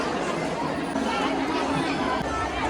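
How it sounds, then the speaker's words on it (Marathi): Crowd of devotees packed at a temple entrance on the Indrayani riverbank: a loud, continuous hubbub of many overlapping voices chattering nearby, with no single speaker standing out. "आपल्याला आतमध्ये प्रवेश भेटत नाही आहे कारण गर्दी पाहू शकता किती आहे. खूप गर्दी आहे."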